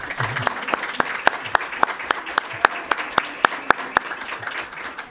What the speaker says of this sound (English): if I could just have a very quick three-way transoceanic round of applause for all of our